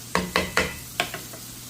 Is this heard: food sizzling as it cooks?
yes